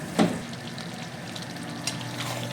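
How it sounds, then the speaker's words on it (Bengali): Mutton sautés in a pan as it is browned for curry, a steady frying sizzle with a couple of sharper stirring scrapes and knocks near the start and middle, no talking. "এবার আমি 15-20 মিনিট আমি এটা কষিয়ে নেব"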